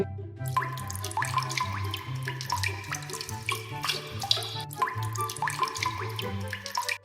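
Water runs steadily from a tap into a sink while a face is rinsed of soap, a continuous splashing and trickling stream close by with small shifting gurgles throughout.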